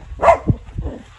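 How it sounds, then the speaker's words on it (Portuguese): Dogs bark outside at a rural homestead under construction: a sharp nearby bark followed by a couple of lower, shorter woofs in quick succession. "Aí Sofia tá esperando os cachorros parar de latir"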